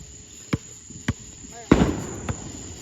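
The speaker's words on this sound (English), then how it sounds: "Big fireworks!" Fireworks going off outdoors: three sharp distant pops spaced about half a second apart, then a louder crackling burst and one more pop, over a quiet background with faint voices.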